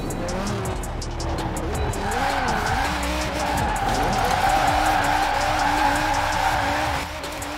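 Tire squeal and engine roar from a car drifting in the racing game Forza Horizon 4, a loud continuous screech with rising and falling engine pitch over the whole stretch, no talk.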